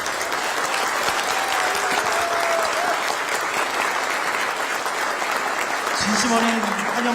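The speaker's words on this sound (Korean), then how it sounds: "두 분께 큰 박수로 환영회와 환송사를 마치겠습니다" Sustained applause from an audience welcoming the president and first lady rolls on steadily for several seconds as a dense, even wash of clapping, with a faint voice and a brief low tone near the end.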